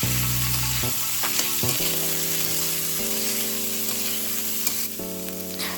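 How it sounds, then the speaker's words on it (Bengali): Carrots and egg fry in a wok while being stirred, a loud, steady sizzle with scraping stir strokes throughout, up close, while a song plays in the background. "এখানে এগুলো ভাজা হচ্ছে"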